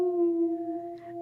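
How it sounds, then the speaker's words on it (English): A sustained wolf howl sound effect, used to mark spoilers in a book podcast, holds one steady pitched tone and fades slightly near the end, clear and alone. "It is, of course, the wolf howl."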